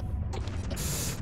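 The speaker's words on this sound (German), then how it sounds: "ganz kurz die Tür hier öffnen" A door creaks open in the Zelda Ocarina of Time game, a short mechanical creak and grinding ratchet under a steady low rumble of background music, ending in a brighter hiss.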